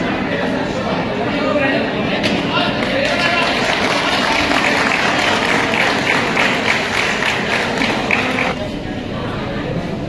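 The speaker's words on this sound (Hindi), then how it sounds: "एक बार पुनः जोरदार तालियों से स्वागत करते हैं।" A large audience applauds to welcome the actor Govinda at a public event honouring farmers, with dense, sustained clapping filling the space for the whole stretch while a voice talks over it.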